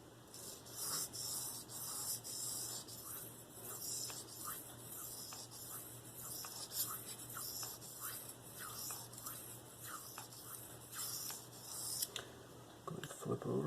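Spyderco Endura 4 knife with K390 steel sharpened on Venev diamond stones, close rhythmic rasping strokes of the blade across the stone in repeated passes, fairly faint.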